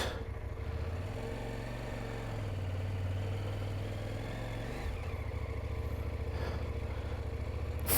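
A 2023 CFMOTO Ibex 800T adventure motorcycle runs in first gear, its engine droning steadily and loud up close with a low sustained tone that shifts pitch partway through as the bike pulls away.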